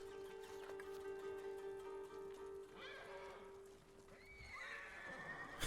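Horses in the samurai video game Ghost of Tsushima neigh and whinny repeatedly, two or three rising calls in the second half over a steady tonal game ambience, with faint hoof clip-clop.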